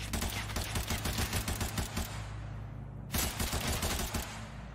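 Rapid bursts of gunfire ring out in a battle royale video game, dense repeated shots for about three seconds, a brief pause, then another loud volley.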